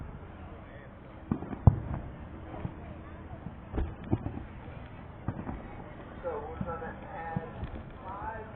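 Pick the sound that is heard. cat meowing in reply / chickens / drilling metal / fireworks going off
fireworks going off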